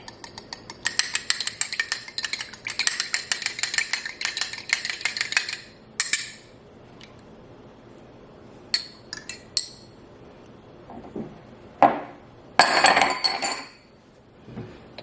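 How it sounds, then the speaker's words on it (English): Ricotta cheese and an egg beaten together in a bowl, a fast run of close metallic clinks and scrapes from a utensil against the dish, then scattered single taps and short bursts after a pause, with no talk. "take your ricotta cheese and 1 egg, and I'm gonna slightly beat it before I add it in"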